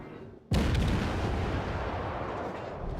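Cruiser main guns firing in World of Warships from a Kuma light cruiser, a single loud broadband boom bursting in after a moment of quiet and rolling into a long, sustained rumbling roar.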